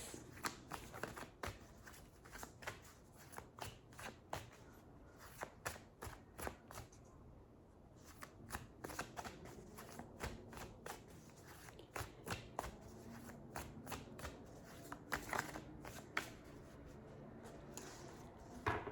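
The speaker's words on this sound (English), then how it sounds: "Let's draw one of my makeshift cards." Makeshift cards being shuffled and drawn, a very quiet, close run of soft papery flicks and rustles in irregular bursts, without any speech.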